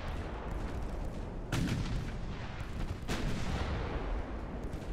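Naval gunfire in the warship game Ultimate Admiral: Dreadnoughts, with heavy rumbling artillery booms and shell hits, two strong blasts standing out over a continuous low roar of battle.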